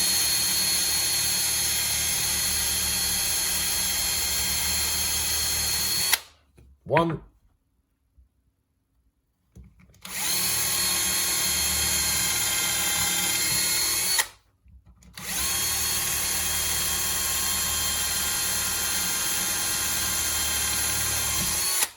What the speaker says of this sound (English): In with the drill, press in to get your line